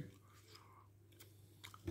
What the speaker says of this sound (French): mes excuses pour les bruits de mâchouillage de chewing-gum dans le micro